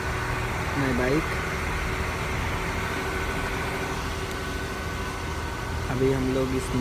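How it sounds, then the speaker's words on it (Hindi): A boat engine runs with a constant droning hum during a crossing of the Gandak river, steady and moderately loud throughout, with a voice speaking briefly over it near the start and again near the end. "ये है इस बोट की इंजन जिस पे ये बोट चल रही है।"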